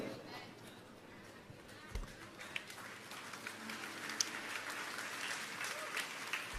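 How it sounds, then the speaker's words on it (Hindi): Women in a church congregation start the clapping during a sermon, faint scattered applause building in the latter half of the moment, with a voice audible amid the quiet room. "सबसे पहले तालियां बहनों ने बजाई।"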